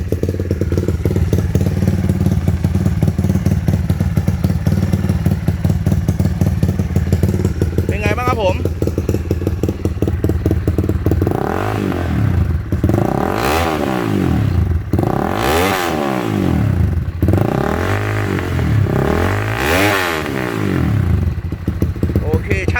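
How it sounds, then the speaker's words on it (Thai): A Honda MSX motorcycle fitted with a CBR engine head idles loudly and close, then revs repeatedly in rising and falling bursts, with a voice speaking over it. "มาฟังเสียงเครื่องครับ"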